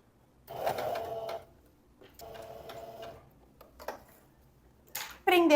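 Sewing machine zigzag-stitching elastic with plenty of backstitching: several short, close bursts of rapid mechanical stitching separated by pauses, with a sharper burst at the end.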